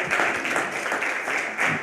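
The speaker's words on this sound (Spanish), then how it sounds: "Damos un aplauso." An audience applauds after a paleontology talk, a brief burst of dense, steady clapping from a crowd of listeners, fairly close and even throughout.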